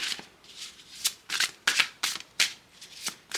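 Tarot cards being shuffled by hand in a quiet room, a quick run of crisp riffling bursts and soft slaps, about six distinct riffles close up with short pauses between them.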